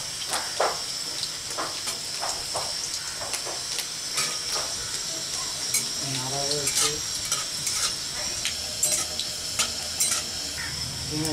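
Garlic sizzling in hot oil with panch phoron and dried chilli, a steady crackling fry broken by scattered clinks and stirring scrapes from the pan, close and without talk.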